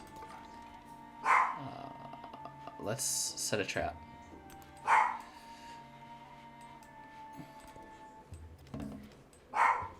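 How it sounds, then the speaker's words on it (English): A dog in the strategy game Civilization VII gives three short, sharp barks spaced several seconds apart, heard over steady game music and ambience while someone talks. "Listen to my dog bark."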